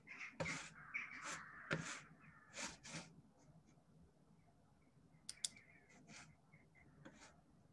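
Crows caw repeatedly and loudly, some calls near and some farther off, with fainter birdsong and a few sharp clicks between them, in the background before an online talk begins.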